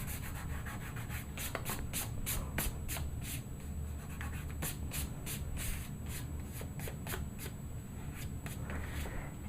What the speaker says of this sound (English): You can either use that rubber cement eraser again, or just rub it with your finger like this